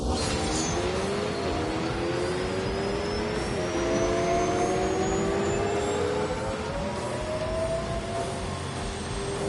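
Rimac electric hypercar launching in thrust mode and accelerating hard, a loud rising electric whine that climbs steadily in pitch over wind and tyre roar, with no talk over it.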